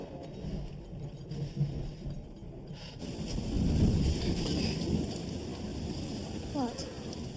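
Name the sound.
thunderstorm with rain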